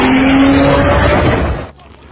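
Race cars with modified Nissan TB48DE engines, built for sand racing and drag challenges, roar loudly up close in a harsh, raw blast that fades away toward the end, with tire noise mixed in.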